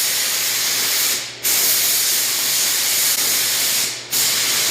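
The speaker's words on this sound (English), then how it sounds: "I'm gonna put 2 light coats of my sealer on, let it flash" Spray gun laying Limco sealer onto a bumper in light coats, a loud continuous airy hiss with two brief dips where the trigger eases off, close and alone.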